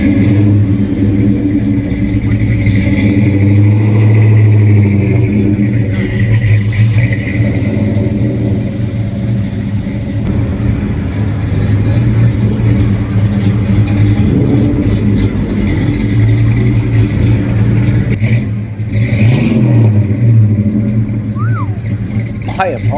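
A 1970 Twister Special muscle car, a one-of-30 Ford with a 428 or 429 V8, rumbles loud and close with a steady deep idle and revving, while people talk over it throughout.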